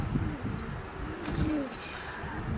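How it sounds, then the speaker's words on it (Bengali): Rajgolla pigeons coo softly and close by in a loft, with a couple of low throaty calls rising and falling over quiet background noise. "খুব খুব সুন্দর অ্যাক্টিভ কবুতর, খুব চঞ্চল কবুতর"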